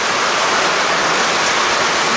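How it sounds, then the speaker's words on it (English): Heavy rain pours steadily at a campsite on the trek to Annapurna Base Camp, a dense, loud, continuous hiss with no break and no voices. "The rain is crazy."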